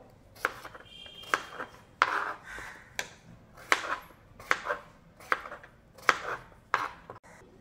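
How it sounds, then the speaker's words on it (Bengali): A knife chops thick-peeled papaya into chunks on a board, about a dozen crisp, close knocks in a loose, uneven rhythm with no talking. "তো এবার আমি পেঁপেগুলোকে ডোমো ডোমো করে কেটে নেব"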